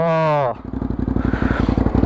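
A Hyosung GT650R motorcycle engine idles close by after a short spoken exclamation, a loud, fast, even putter of firing pulses.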